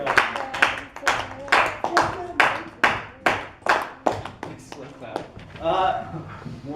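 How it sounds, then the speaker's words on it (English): A small classroom group claps together in a warm round during a physics lesson on standing waves, steady close-up hand claps for several seconds before thinning out, with some murmured talk at the end. "Warm round of applause."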